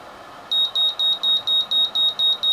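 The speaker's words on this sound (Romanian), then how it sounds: "alarma va suna mai tare și ventilatorul se va învârti mai repede" A loud electronic speaker-protection alarm beeps in a steady, rapid series of about eight pulses over a constant background whir of a fan speeding up.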